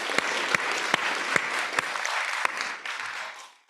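A colloquium audience applauds its panel in a steady round of clapping with sharp individual claps standing out, fading away toward the end.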